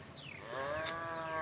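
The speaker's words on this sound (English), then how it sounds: "So many cow grazing on the roadside." A cow grazing on a countryside roadside beside paddy fields gives a single long, drawn-out moo that rises and then settles, fairly close, over a faint background hum.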